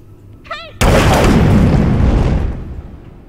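A single heavy sniper rifle shot booms in the Hitman video game, a sudden loud blast whose rumbling tail fades over about two seconds, preceded by a brief voice.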